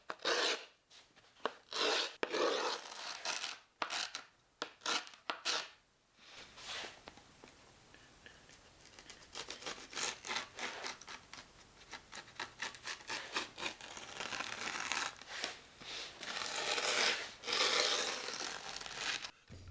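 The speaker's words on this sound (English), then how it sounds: "Once the grip tape is on, score it to create a guiding line so it's easier to cut." A blade or tool scrapes and rubs along the edge of skateboard grip tape, scoring and roughening it, producing rhythmic gritty strokes, sharp rasps early on and then a longer run of steady scraping at close range.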